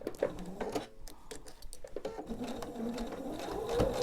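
Sewing machine slowly stitching quilt seams on a color wheel quilt, a steady close mechanical whirr with soft repeated needle ticks that grows a little louder toward the end.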